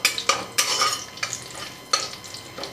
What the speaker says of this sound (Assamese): শুকান জলকীয়া দিছোঁ এটা, তেজপাত দি দিছোঁ। এইখিনি অকণমান লৰাই দিছোঁ।